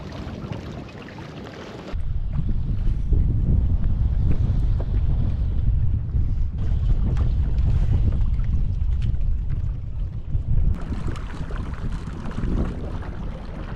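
Strong wind on Horsetooth Reservoir during fall kayak fishing roars and buffets a microphone in a low, steady rumble, swelling after a quieter opening and easing slightly toward the end.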